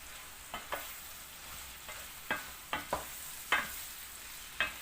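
Food stirred in a pan on a wood-burning kitchen stove: faint background sizzle punctuated by about eight distinct scraping taps of the utensil at an uneven rhythm, quiet and close, without speech.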